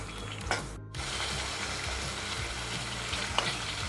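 Tamarind pulp for temple-style pulihora simmers in a pan, a continuous close bubbling and sizzling with soft pops, briefly cut by a short gap near the start, with no talking.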